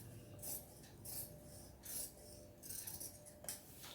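Scissors snipping blouse fabric by hand in a quiet room, a series of short, faint, crisp cuts at a steady rhythm, close by and heard alone.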